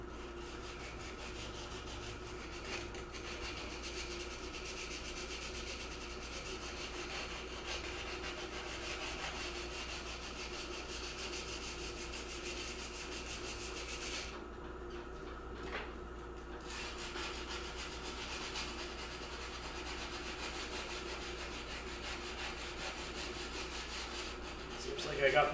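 Hand sanding rubs scratches out of a metal piece in a forge workshop, a faint, continuous scraping texture over a steady low hum, with only a brief pause partway through.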